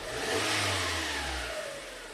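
A 2000 Toyota Camry engine with a surge and stall fault revs briefly as the throttle is touched, its pitch climbing and then dropping back toward idle, close and alone.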